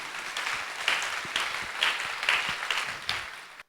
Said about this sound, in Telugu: చప్పట్లు కొడితే నేను సంతోషపడ్ను